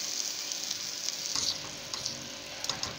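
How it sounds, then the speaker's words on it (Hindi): Almonds and figs dry-roasting in a pan for fig kheer give off a soft, continuous close hiss, with a few light stirring scrapes in the second half. "थोड़ा सा हम इसे भून लेंगे ताकि बादाम और अंजीर दोनों अच्छे तरीके से भून जाए"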